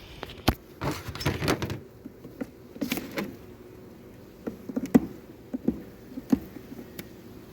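Honeybees buzzing at an opened spring hive built from extruded polystyrene foam: intermittent low buzzing bursts mixed with close knocks and clicks as frames are handled, quiet between the bursts.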